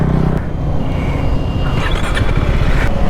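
A new KTM Duke 390 cruise control version motorcycle runs close by, with a steady, loud engine drone that rises slightly as it pulls away. No one speaks.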